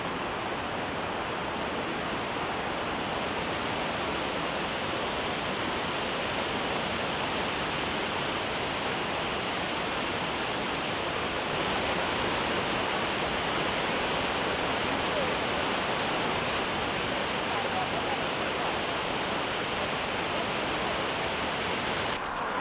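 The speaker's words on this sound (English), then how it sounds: "Bregava river, this is typical karst river, very specific when during the dry period exists only middle part of river. Now there is lot of water." The Bregava, a karst river near Trebinje, runs high with water, producing a steady, broadband rushing roar that stays constant and fairly loud throughout with no breaks.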